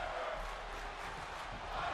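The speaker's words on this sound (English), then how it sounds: "Crowd here tonight feeling this match." In the WWE 2K22 video game, an arena crowd keeps up a steady roar of cheering and chanting throughout a NXT 2.0 wrestling match, broad and continuous at a moderate level.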